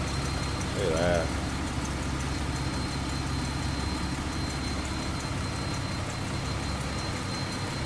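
1946 Plymouth Special Deluxe Club Coupe with an inline six, 218 cubic inch engine on a 6-volt system, idling smoothly and steadily in the background while a person talks over it.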